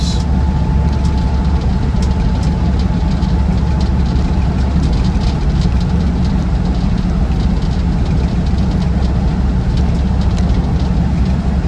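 A Land Rover Defender 90 TD5 diesel chugs along steadily on the road, a constant low engine rumble with road noise and occasional faint rattles throughout.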